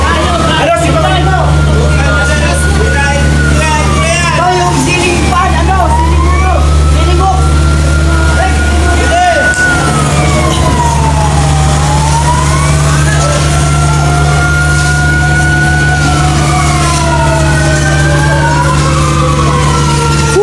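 A fire truck siren wails loudly, sweeping up and down repeatedly over a steady, heavy engine drone, close and continuous.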